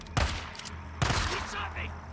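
Two loud gunshots ring out in the video game Days Gone, about a second apart, each with a sharp burst followed by a rumbling tail, over background game noise.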